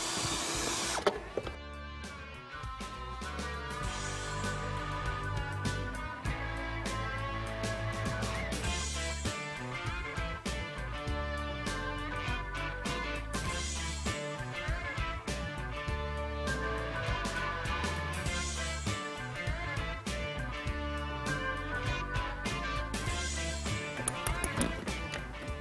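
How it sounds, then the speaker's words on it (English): A power drill whirs continuously as it drills a hole through a plastic box, its pitch wavering as it bites into the plastic, steady and close for the whole stretch. "we're going to mark a hole where we're going to drill through the box"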